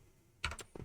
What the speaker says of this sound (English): Clicking too much, guys.